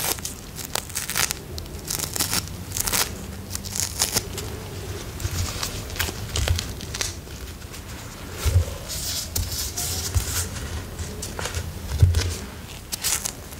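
Sticky tape being pulled and pressed down, with intermittent tearing and crinkling rasps and soft handling taps, close and fairly quiet.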